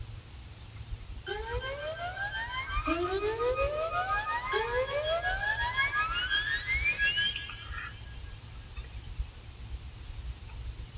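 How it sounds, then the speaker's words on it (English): Rising synth riser effect programmed on a Maschine, several overlapping sweeps climbing steadily in pitch, loud and alone for about six seconds before cutting off. "I think it's just the riser."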